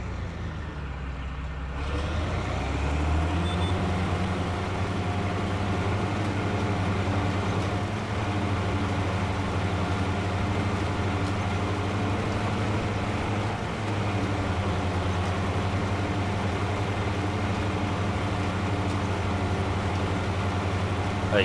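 A 200-horsepower tractor in Farming Simulator 25 labors under load, its engine holding a deep, steady drone with a constant low hum throughout.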